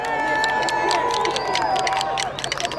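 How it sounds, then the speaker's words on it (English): Stadium crowd at a school bonfire rally cheering and clapping for the cheerleaders and band, a broad sustained roar with scattered shouts and whistles, fading slightly toward the end. "How about a nice round of applause for them?"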